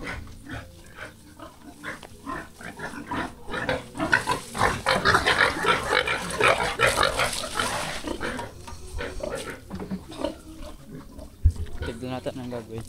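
A pig grunting and squealing close by, harsh bursts running through the middle of the clip, while people talk over and around it.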